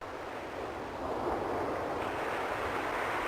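Cold ocean water laps a narrow beach below steep cliffs in the adventure game King's Quest V, a steady, soft rushing surf that swells slightly louder partway through, with no voices.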